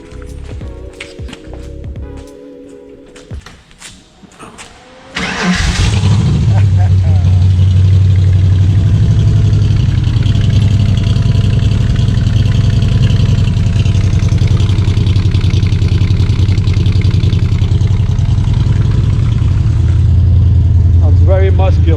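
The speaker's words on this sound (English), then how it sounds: "We have the side pipes with the heat shield. And now we'll give you a startup." A Factory 5 Cobra replica with side pipes and heat shields cranks and fires up, then settles into a loud, steady, rumbling idle that continues close by after a short stretch of quieter sounds.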